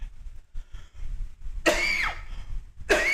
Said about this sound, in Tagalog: Hindi na nawala yung ubo ko.